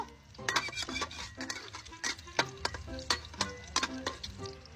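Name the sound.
egg frying in a pan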